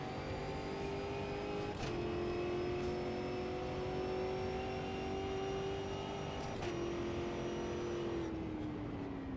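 A stock car engine in the racing game Automobilista 2 holds a steady, loud drone, its pitch dipping with gear or throttle changes around two points before easing down near the end.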